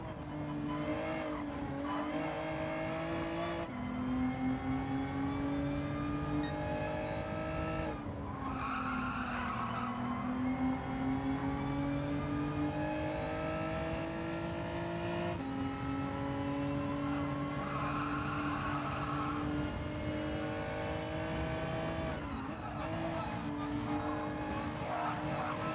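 Race cars in the video game Gran Turismo 7 hold a steady engine drone throughout, with tires skidding and squealing through corners and pitch shifting with each gear change. No one speaks.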